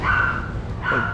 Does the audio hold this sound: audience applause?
no